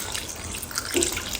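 Cold water pours and splashes into a cooking pan in a home kitchen, a short close trickling stream heard alone.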